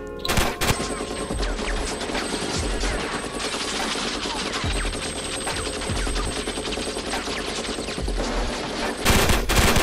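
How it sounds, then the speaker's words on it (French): Sustained machine gun fire from a modded Minecraft gun rattles on in rapid, dense bursts for nearly ten seconds, loud and close, with brief breaks near the start and end and no talking. "ça s'appelle une machine gun. Et ça sert à tirer comme ça. À mitrailler."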